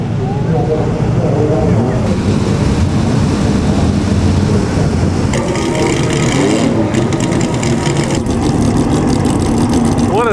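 Historic Ferrari racing car engine at the 2008 Monaco Historique, a loud, rough rumble with revving passes among other cars, a crowd and voices mixed in throughout.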